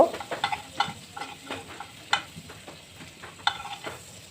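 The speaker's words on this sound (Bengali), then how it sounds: "বাটারটি ভালো করে গলিয়ে নেব" Butter melts and sizzles in a pan, the start of a restaurant-style white sauce for pasta, with a steady soft fry broken by sharp clicks and scrapes of a spoon stirring against the pan.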